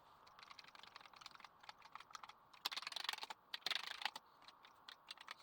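Rapid key clicks from a repaired Razer gaming keyboard being typed on for a test, a quiet, steady patter of keystrokes with two denser, louder bursts partway through.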